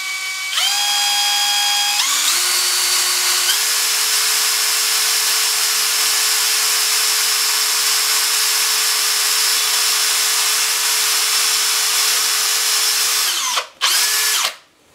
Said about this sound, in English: I am using here a portable drill press. It's important to drill the holes at right angles to the rod.